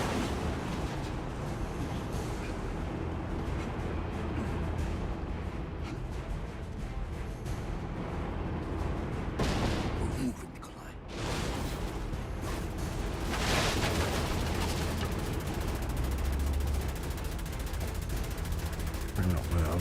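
Enemy gunfire in Assassin's Creed Chronicles Russia: a dense, steady wash of shots and noisy blasts that runs almost without a break, dips briefly midway, then surges back loud.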